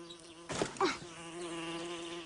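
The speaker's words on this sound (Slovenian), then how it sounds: "Vroče je, veliko več muh je kot ponavadi." Flies buzz on a hot day in a steady, close, thin drone, with a brief louder burst of movement partway through.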